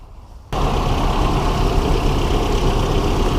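A truck engine, started for an alternator voltage test, kicks in abruptly after a brief quiet moment, then idles with a loud, steady, low rumble.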